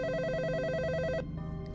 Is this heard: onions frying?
no